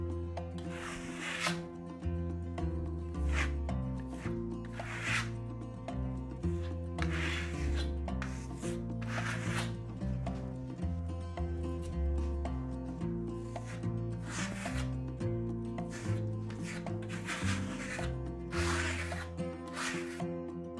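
A steel trowel blade spreads Venetian plaster in repeated rasping, scraping strokes at a steady, even rhythm, close and fairly loud, heard over a continuous tonal backdrop that sounds like music.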